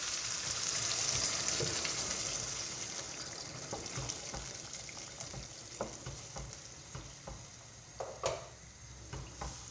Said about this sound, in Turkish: Biraz daha kavurup suyunu vereceğim. Şöyle sıcak suyumuz var.